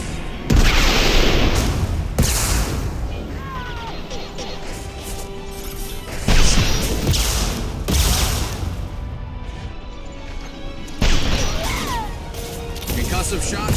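Weapon fire and explosions in the video game Mass Effect 2, several heavy booming blasts and crashes at irregular intervals, each with a decaying rumble, over game sounds and occasional voices.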